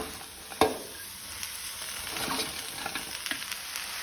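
Chopped spinach goes into a pan of frying onions for a Goan dry bhaji, giving a sharp impact followed by a steady low sizzle and a few stirring scrapes, with no voices.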